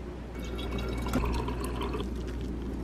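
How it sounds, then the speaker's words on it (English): Water pours into a huge drinking glass, a close, continuous splashing fill with gurgling that rises in intensity midway and then eases, with no talking. "So right now I'm going to drink a huge glass of water like this."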